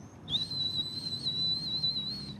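A person's voice imitates a steady, piercing high-pitched tinnitus whistle, held continuously for about two seconds with slight wavering.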